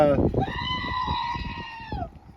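A goat bleats in one long, loud, wavering cry lasting about two seconds, close by at a farm, with a short vocal sound just before it.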